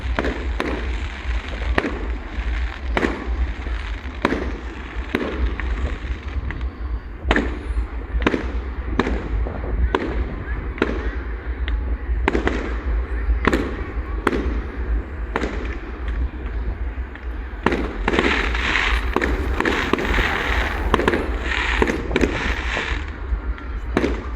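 Repeated fireworks bursts from a computer-fired display pop and crackle in quick succession over a steady low rumble, some volleys denser and louder, heard from a moderate distance.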